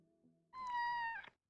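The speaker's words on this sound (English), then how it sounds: "They made the meows so adorable." A cat meows in the Kathy Rain 2 video game, one drawn-out, high, tonal meow that rises after a soft low hum and ends in a brief wavering tail, close and clear.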